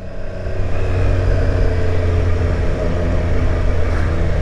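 A mid-displacement RS motorcycle engine running and revving, a loud, close, steady low rumble that holds throughout with no talking.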